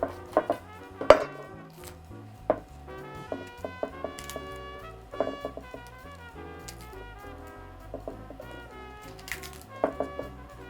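A knife cuts the core out of a cauliflower on a board, with scattered sharp cracks, crunchy snaps and knocks of kitchen utensils over a faint background of music, close and fairly quiet.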